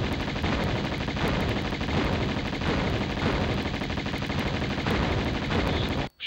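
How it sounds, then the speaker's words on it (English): Rapid automatic gunfire in PS1 Tomb Raider pelts the player, a loud dense stream of evenly spaced shots rattling continuously for several seconds before cutting off abruptly, with no talk over it. "Stop shooting me."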